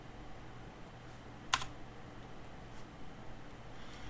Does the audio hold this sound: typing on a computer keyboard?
yes